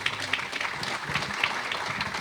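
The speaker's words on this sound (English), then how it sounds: "Let's give them a round of applause." A round of applause for transportation panel speakers at a business readiness summit in Los Angeles: dense, steady clapping from a seated audience, moderately loud and sustained for the whole moment, with no talking over it.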